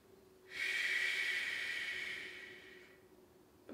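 A long, soft breath out with a hissing shh sound during a chi kung breathing exercise, close and steady, fading slowly before a fresh breath begins at the end.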